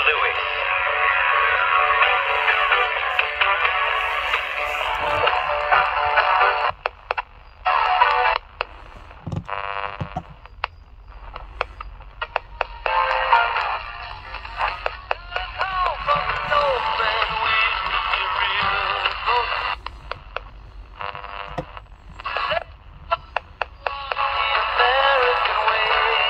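A Mikki 2 pocket transistor radio receiver from 1970s Berlin plays a broadcast, a steady band-limited, tinny stream of talk and programme sound with brief dropouts, continuous throughout.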